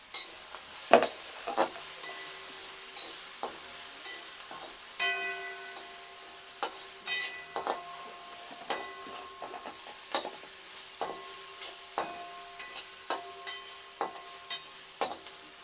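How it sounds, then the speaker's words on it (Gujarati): Onions cooking in a pan for Maggi noodles give a soft, steady sizzle, punctuated by scattered sharp taps and clicks of a stirring spoon against the metal, fairly quiet and without speech. "હવે નાખીએ આપણે ડુંગળી ડુંગળીને આપણે ઘડીક વાર પાકવા દેવું"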